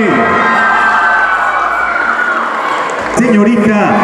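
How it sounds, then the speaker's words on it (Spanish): A dense crowd cheers and shouts at a coffee fair queen coronation in Zoquiapan, a loud continuous roar with whistles and a swell of voices near the end. "Que se escuchen los aplausos, que no decaiga el ánimo"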